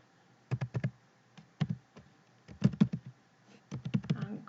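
Bursts of quick keyboard typing into a computer search box in short clusters with pauses between, close and moderately quiet.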